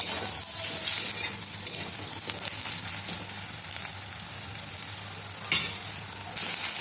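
Chopped onions fry in a pan for chicken ghee roast, a loud steady sizzling hiss with occasional stirring scrapes and a brief louder burst near the end, no voices.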